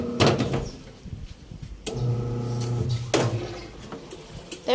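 A Toshiba top-load washing machine lid closing, giving a few distinct thuds and sliding scrapes spaced a second or so apart, each followed by a short odd rattling resonance, close up and fairly loud.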